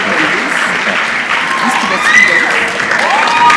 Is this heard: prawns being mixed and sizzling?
no